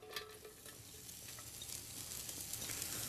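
Diced onion sizzles steadily in a pan over medium heat, a soft broadband hiss that swells slightly louder toward the end, with faint clinks of a utensil and no talking.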